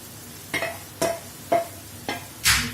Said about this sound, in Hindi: मसाला मिक्स करेंगे अच्छे से